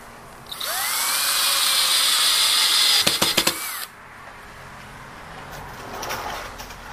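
A power drill bores and countersinks screw holes in a wooden bench, whining loudly and steadily for about three seconds, then a few quick bursts of higher revving before stopping. Quiet room tone follows.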